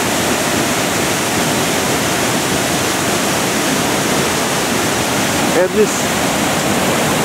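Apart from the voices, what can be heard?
waterfall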